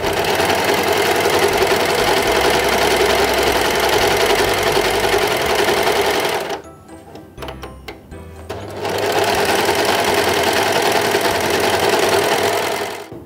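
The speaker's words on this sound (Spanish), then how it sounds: "la máquina ha cortado y overlado la tela" Brother 3534DT overlock sewing machine cutting and overlocking fabric, a loud steady rapid mechanical whir that stops briefly around the middle, then starts again at full speed and runs to the end.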